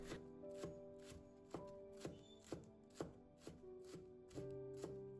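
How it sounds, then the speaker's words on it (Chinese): A knife chops green onions on a board for egg fried rice, giving a steady series of crisp, close chops roughly every half second, quiet and alone with no talking. "我们准备1把小葱，小葱切成葱花"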